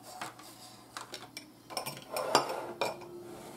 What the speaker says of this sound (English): I'm going to get all my dirty dishes out of the way.